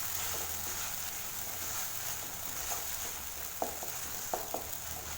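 Ground masala paste fries in oil for a lady's finger curry, a faint steady sizzle with a few soft stirring taps near the end.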